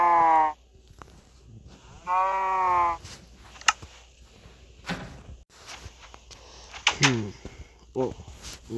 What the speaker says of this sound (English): Oh, there is another cow.